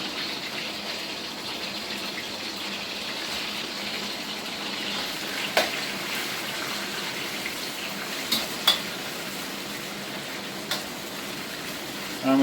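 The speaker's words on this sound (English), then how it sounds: "Got that beef. I'm going to pop that in. To a hot pan" Beef sizzles in a hot pan for Peruvian lomo saltado, a steady close hiss of frying with a few sharp crackles and spits breaking through now and then.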